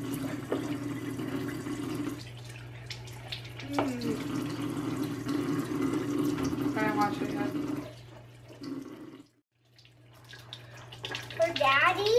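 Water runs from a tap into a household sink during washing up, a steady hiss that stops briefly near the end, while a child and an adult talk over it.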